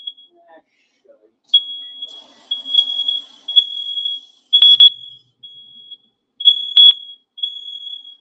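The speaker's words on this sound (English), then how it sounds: "my alarms are going off. Too much smoke in here" Smoke alarms emit shrill, piercing beeps in irregular bursts, some long and some clipped, with faint background sounds between, set off by cooking smoke in a kitchen.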